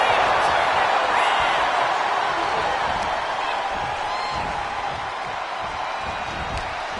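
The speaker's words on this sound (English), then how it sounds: "Listen to this crowd." A large WWE arena crowd roars steadily throughout a wrestling match, a dense, loud wash of cheering that holds for several seconds with no clear talk on top.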